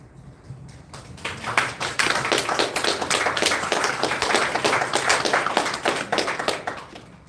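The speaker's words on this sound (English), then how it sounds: "Y'all might be clapping" An audience at a heated public meeting breaks into sustained clapping, a dense patter of many hands that builds quickly and holds loud and steady for several seconds.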